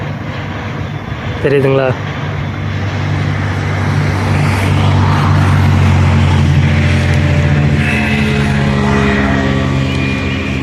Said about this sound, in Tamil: பக்கத்தில் இந்த விண்டு மில் சவுண்டு வேறு நல்லா கேட்குது, ஓடிட்டுருக்கு.